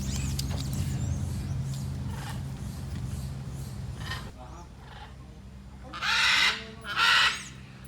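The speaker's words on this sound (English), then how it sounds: "Two parrots on the volleyball net." Two loud, harsh squawking parrot calls ring out close by near the end, separated by a short pause, after a stretch of low rumbling background; the parrots perch on a volleyball net in Bolivia.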